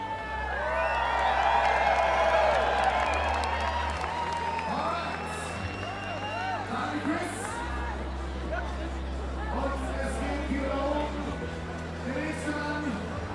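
Crowd at the Swatch Rocket Air 2019 BMX event, cheering and clapping that swells early then settles into a general murmur, with an announcer talking over a low background rumble.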